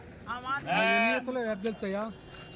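Sheep bleat repeatedly at a weekly sheep and goat market in Kadiri, with wavering, voice-like cries close by and someone talking.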